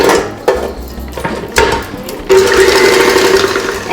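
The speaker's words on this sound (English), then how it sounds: "I'm gonna whisk this or mix it until it's nice and fluffy and pale" An electric mixer whirs steadily while whisking sugar until fluffy and pale for mini cakes, broken by a few sharp clinks against the bowl before the motor settles into a continuous, close, even buzz.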